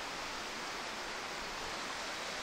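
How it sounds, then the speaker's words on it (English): River water rushing steadily along a stream, a faint continuous broadband wash with no other sounds. "Beautiful bit of river."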